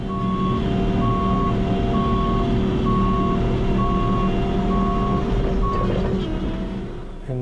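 A Bobcat skid steer reverses while back-dragging gravel in a parking lot. Its reversing alarm beeps steadily at an even rhythm over a loud, continuous diesel engine drone.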